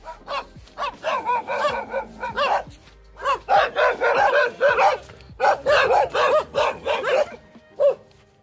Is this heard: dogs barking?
yes